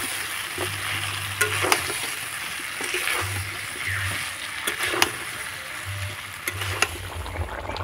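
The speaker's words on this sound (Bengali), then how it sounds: "এবার আমি মশলার সঙ্গে আলুটাকে ভালো করে কষিয়ে নেব।" Potatoes cooked down with spices in a pan give a steady frying sizzle, broken by scraping stirs at irregular intervals, with a low background hum underneath.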